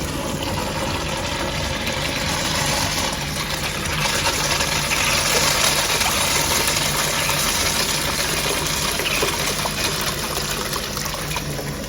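Water rushes steadily through a Sloan urinal flush valve after it is turned on, a continuous close hiss of flowing water with no speech.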